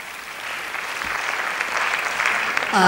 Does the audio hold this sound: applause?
yes